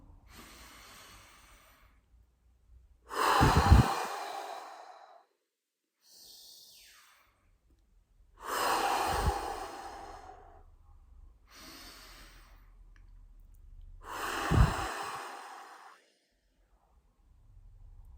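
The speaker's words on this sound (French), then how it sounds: "Prendre 3 profondes respirations." Three slow, deep breaths spaced several seconds apart during a relaxation exercise, each a loud breathy inhale and exhale, close and alone with quiet pauses between.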